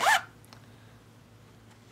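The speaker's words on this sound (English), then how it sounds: "And the zipper is easy to use." A makeup bag's zipper is pulled open in one quick, sharp rasp at the start, followed by near silence.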